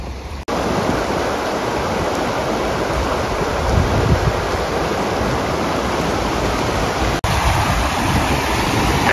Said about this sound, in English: Check out that raging river.